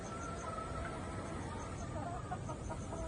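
Yellow-legged hens in a pen give soft, faint clucks over a low steady background hum, with no voices.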